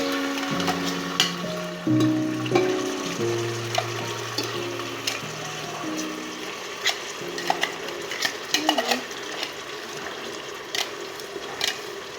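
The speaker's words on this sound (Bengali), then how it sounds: "মশলাটা গরম হতে থাকো, নাড়া দিই।" Spices frying in a pan for khichuri are stirred, giving a steady sizzle with scraping utensil clicks and a few sharper metallic taps, close and moderately loud, with a low tonal hum running underneath.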